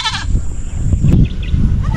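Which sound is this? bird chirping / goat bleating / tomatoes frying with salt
goat bleating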